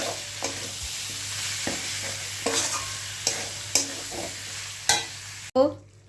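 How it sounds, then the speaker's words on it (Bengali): Spice paste stir-fried with potato and cauliflower in a pan, with steady frying sizzle under repeated scraping stirs at a loose, uneven rhythm, close and moderately loud, ending in a sharp clatter. "এবার ভালো করে মশলাটা মশলা পুরো সবজির সাথে কষিয়ে নিতে হবে সুন্দর করে"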